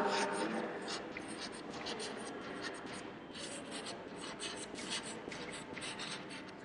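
Chalk or marker scratching steadily across a board during a classroom lesson on food and nutrition, continuous soft strokes and taps with quiet room tone and no speech.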